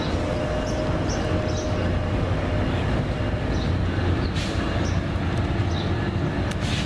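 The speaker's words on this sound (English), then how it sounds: "southbound tri-rail P663-09 is now departing, heading toward Pompano Beach and eventually Miami Airport" Southbound Tri-Rail three-car commuter train with two locomotives departing toward Pompano Beach, a steady low rumble and rolling rail noise at moderate distance, with faint higher squeals.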